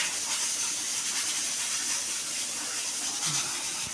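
Steady hiss of a rice cooker steaming as meat softens inside, a continuous close, even rush with no speech over it.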